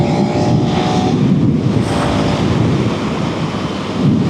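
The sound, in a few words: KTM 390 Enduro R motorcycle riding at highway speed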